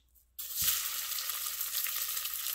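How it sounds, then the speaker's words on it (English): A sudden loud sizzle starts as sausage hits a hot pan, then a steady crackling fry continues. "You hear that sizzle?"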